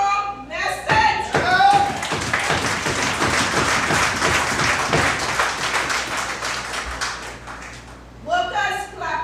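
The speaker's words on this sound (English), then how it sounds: "Workers clapping is nice" Workers at a union meeting clap together, a crowd's dense clatter that builds after a few sharp individual claps, holds steady, then thins out as a voice speaks near the end.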